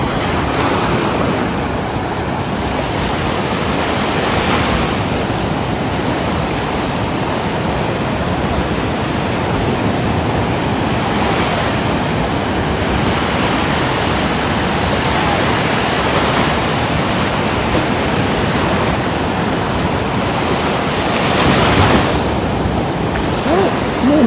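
Surf breaks over and over on Alykes beach, Zakynthos, a rough day with a constant loud wash of waves and wind buffeting the microphone.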